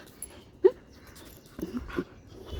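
A dog makes a few soft whimpers and faint panting breaths close by, quiet and brief against a low background.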